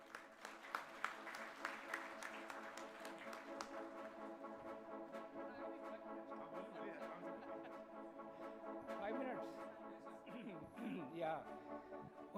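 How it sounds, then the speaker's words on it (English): An audience at a hospital golden jubilee celebration breaks into sustained applause, many hands clapping together in a dense, even wash under the amplified room tone, with a few louder claps near the end. "can I have a huge round of applause?"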